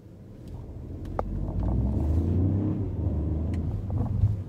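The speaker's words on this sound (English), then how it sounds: "So what's it like to accelerate from 0 to 50?" A 2022 BMW X1 accelerates from a standstill up to about 50 on a road, its engine giving a steady, swelling low rumble heard from inside the car. It builds smoothly, with faint clicks and no voices.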